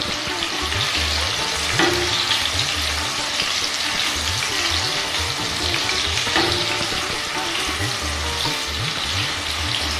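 Prawns for a Bengali jackfruit and prawn curry sizzle steadily in hot oil over a high flame, with a spatula scraping and stirring through the pan in repeated strokes.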